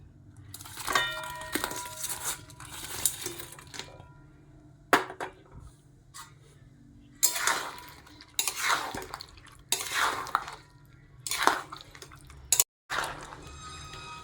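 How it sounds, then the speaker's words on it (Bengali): Chicken pieces go into a pan for chilli chicken, bringing irregular clatter, scraping and metallic clinks of utensils against cookware over a low, steady background hum. The sounds are close, with no talk. "এবার আমি চিকেনগুলোকে দিয়ে দিচ্ছি।"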